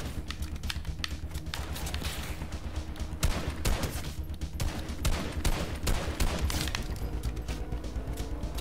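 Rapid bursts of video game gunfire crackle in dense, uneven volleys with sharp individual shots mixed among clattering clicks, steady and close throughout.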